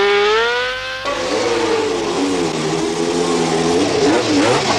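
A Marlboro McLaren Formula 1 race car engine howls close and loud, its pitch shifting sharply as it changes gear and then rising and falling steadily as the car accelerates.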